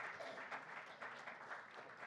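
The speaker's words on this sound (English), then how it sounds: "Can we have a huge round of applause for gentlemen" An audience applauds at an insurance industry conference as panelists are welcomed to the stage, a dense and even wash of clapping that holds steady throughout, heard faint and distant.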